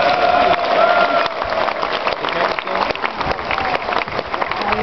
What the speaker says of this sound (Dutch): ik weet zeker dat jullie daar een applaus krijgen.